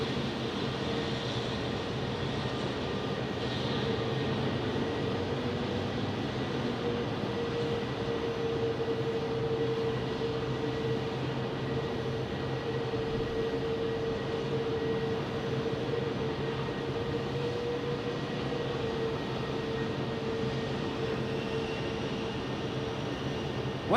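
A steady, loud drone from an Airbus A321 airliner's engines at Phoenix Sky Harbor fills the whole stretch, with a sustained tonal whine and broad rumble and no talk.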